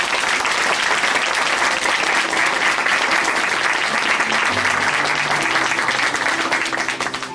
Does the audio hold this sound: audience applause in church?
yes